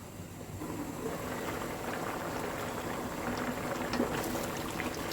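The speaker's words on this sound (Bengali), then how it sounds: "চালটা ফুটে উঠেছে" Rice simmering in a pot with spiced beef for bhuna khichuri, a steady soft bubbling and hiss that stays even and close, with no talk.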